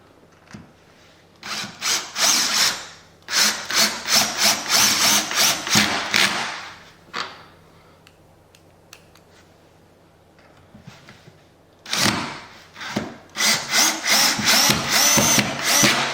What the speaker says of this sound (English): So let's go ahead and run these screws in.